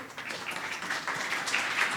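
Audience applause at a university session on impact measurement during Impact Days 2024, a steady wash of clapping from a room full of people, moderately loud and sustained throughout with no talking over it.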